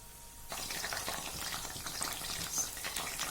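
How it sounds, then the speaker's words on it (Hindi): Spring rolls fry in hot oil over a medium flame, giving a steady, moderately quiet bubbling hiss that starts abruptly and then continues evenly, with no talking. "और जब भी आप रोल ऐड करें तो मीडियम फ्लेम के ऊपर ही आपने रोल को फ्राई करना है"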